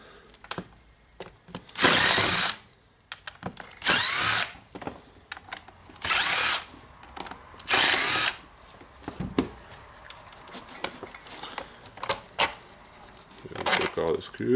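Screws being removed from the handle of a Bosch GWS 20-230 angle grinder with a power screwdriver, four loud whirring bursts of about half a second each at regular intervals, then fainter handling noises and a final short whir.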